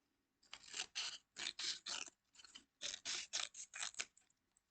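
Scissors snipping a slit into a folded paper ring, a quick series of about a dozen close, crisp cutting snips in uneven clusters, alone against a quiet background.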